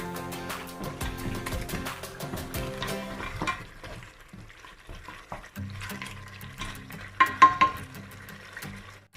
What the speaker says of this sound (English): Ten minutes of braising the oxtail, stirring it frequently.